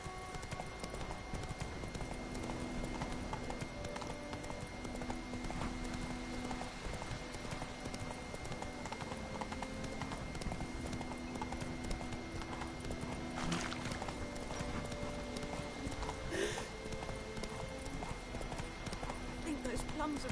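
Horse hooves clip-clop steadily on the ground in the video game The Witcher 3, a continuous rhythmic trot heard under game voices and ambient sound.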